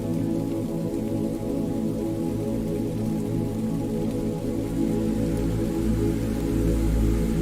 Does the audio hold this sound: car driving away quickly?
no